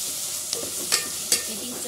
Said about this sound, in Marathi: ही चटणी थोडीशी आपल्याला परतून घ्यायची आहे, कच्ची ठेवायची नाही आहे।